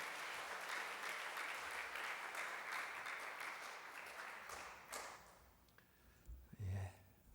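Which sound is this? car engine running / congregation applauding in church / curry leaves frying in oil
congregation applauding in church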